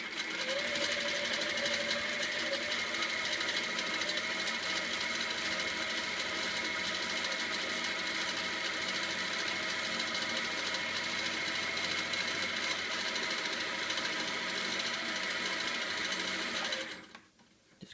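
A sewing machine stitches without a break while couching yarn onto a quilt, layering over earlier stitching, its fast even whir loud and close before stopping abruptly near the end.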